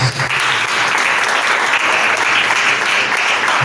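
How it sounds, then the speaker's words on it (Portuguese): A church congregation applauding during a service: dense, even clapping from many hands, loud and sustained across the whole stretch with no gaps. "As palmas são para o Senhor Jesus."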